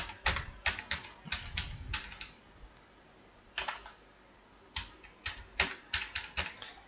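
Fingers tap out an Aadhaar card number on a computer keyboard: two bursts of crisp, rapid keystrokes separated by a brief pause, close and clear with no voices.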